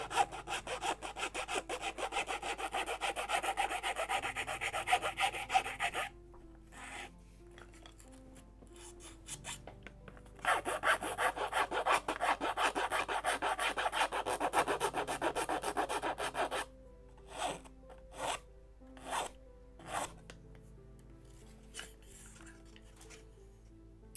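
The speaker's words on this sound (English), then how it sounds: "So a little more sanding" Wood is sanded by hand on a Mayflower (1620) model ship skeleton from a Model Shipways kit at 1:76 scale. Close, raspy rubbing comes in sustained bursts with pauses, then ends in a few short, separate strokes.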